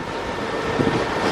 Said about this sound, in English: we've got the engines going